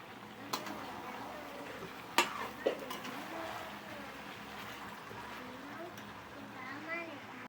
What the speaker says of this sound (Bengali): ভালো করে মশলাটাকে কষিয়ে নেবো এবার আমি।